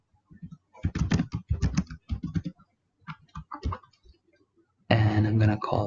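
Computer keyboard typing while entering code, bursts of rapid key clicks in uneven clusters, ending with a louder dense flurry, with someone talking intermittently.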